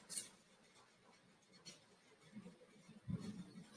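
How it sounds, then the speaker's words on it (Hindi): An answer being written by hand, a pen scratching faintly and intermittently across paper in short strokes and taps, quiet and close, with no speech over it. "अब प्रश्न की मदद से उत्तर को यहाँ पर हम लिखेंगे"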